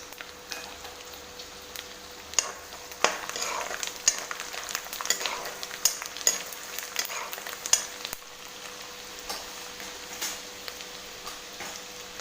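Garlic fries in oil for Diwali-style thin poha chivda, a continuous crackling sizzle broken by repeated scraping stirs and light clinks of the spoon against the pan.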